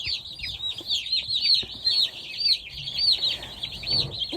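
Several backyard chickens cluck and chirp continuously, a busy overlapping chatter of short calls close by at moderate volume, with no talk over them.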